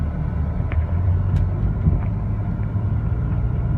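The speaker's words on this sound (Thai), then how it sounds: "เราก็ลองขับมันไปเรื่อย ๆ แล้วกัน ขับได้ปกตินะครับ" An Audi A car running on petrol and LPG drives along steadily, its low engine and road rumble constant and close from inside the cabin, with a few faint clicks and no talk.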